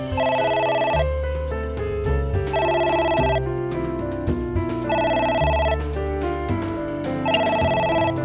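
A phone rings in the video game AI: The Somnium Files, its electronic trill repeating in four steady bursts over a low background music score.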